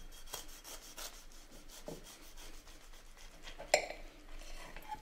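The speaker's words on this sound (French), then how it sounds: "On va maintenant s'en couper une tranche." A knife saws through a slice of apple, cinnamon and raisin loaf cake with soft, quiet, rhythmic scraping strokes, ending with a brief clink of the blade near the close.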